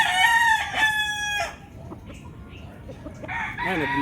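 A gamecock crows loudly close by in one long harmonic call, followed by quieter clucking and another crow starting at the end, on a game farm in Tanauan City, Batangas.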